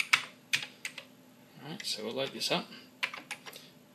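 Keystrokes on a Commodore 128 keyboard click out in sharp, irregular bursts, pausing while someone talks briefly in the middle, then resuming with a few more separate taps.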